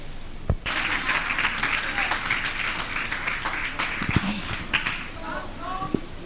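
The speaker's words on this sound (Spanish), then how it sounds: "Denle un aplauso al Señor" Applause from a church congregation, a moderate wash of clapping with a few sharper claps and brief voices or cheers mixed in.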